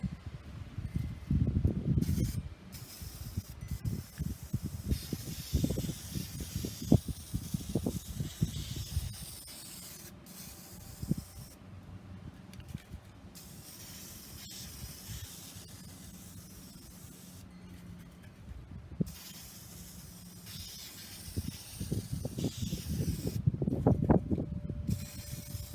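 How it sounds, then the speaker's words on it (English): An aerosol can sprays acrylic clear coat onto an acrylic painting outdoors on a windy day, in several bursts of faint hissing with quiet pauses, soft wind rustle and handling noise between them. "I'm going to make sure that the nozzle is cleared by spraying it off to the distance."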